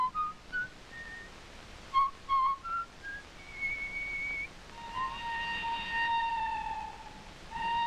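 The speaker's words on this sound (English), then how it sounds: "Even what you whistle has to conform to cover." A person whistles a Viennese waltz tune, starting with short separate notes and then moving into longer held notes, clear and close with no talking.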